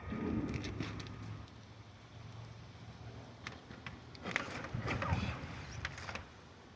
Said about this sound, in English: It is starting to rain.